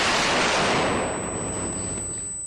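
Flashbang grenade detonating inside an apartment in the tactical game Door Kickers, a loud broadband burst with a ringing high tone that slowly fades over a couple of seconds.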